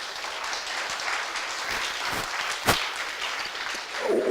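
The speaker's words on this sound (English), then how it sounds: "Guys, let's give a big round of applause." Moderate applause from a crypto meetup audience, a continuous wash of clapping with one sharper clap standing out midway and a voice entering at the end.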